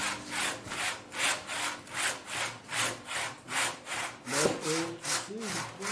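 A hand saw cutting a timber frame beam near a knot, steady, even back-and-forth strokes, close and clear, with a brief murmur of a voice near the end.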